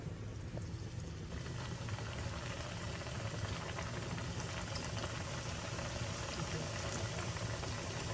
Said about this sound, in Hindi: अब मैं इनको फ्राई करती हूँ।